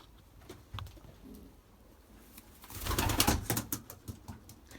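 A racing pigeon, a white-eyed hen, coos and stirs just after release, soft calls rising to a louder, busier stretch midway with a few sharp flutters, close by and without talk.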